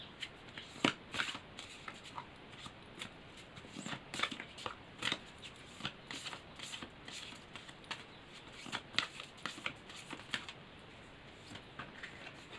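A deck of tarot cards being shuffled by hand during a reading, giving a run of quick papery riffles and soft slaps that repeat in irregular bursts, close up and with no talking.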